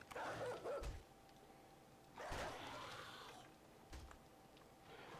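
Dog barking in the survival video game 7 Days To Die, three separate short bursts spread over a few seconds, each rising out of a steady low background hum and fading quickly.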